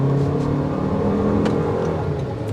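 Turbocharged engine of a 2024 Toyota Grand Highlander accelerating, a steady mid-pitched engine hum with road whir heard from inside the vehicle.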